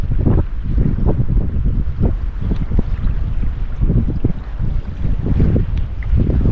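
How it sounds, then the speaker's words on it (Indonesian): Strong, gusty wind buffets the microphone beside a river on a cold, overcast day, a steady low roar with repeated surging gusts throughout and no voices. "anginnya banter banget"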